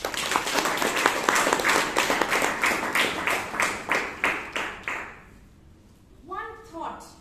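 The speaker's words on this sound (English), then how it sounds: "this counts for a huge round of applause to each one of you present here" A Toastmasters meeting audience in Bangalore gives a burst of applause that thins into a few rhythmic, slowing claps before fading, with a voice starting to speak at the end.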